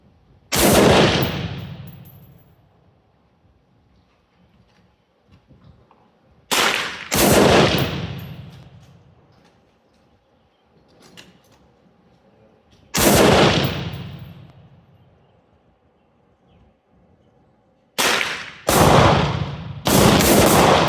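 M16A1-pattern AR-15 rifle built from a parts kit, fired at a 100-yard target: four sharp, loud single shots spaced several seconds apart, each with a long ringing decay, the last two closer together.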